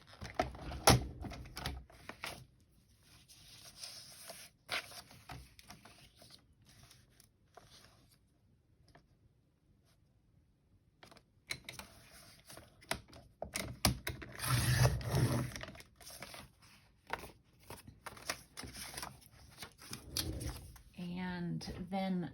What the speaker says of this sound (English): Let me grab my paper cutter.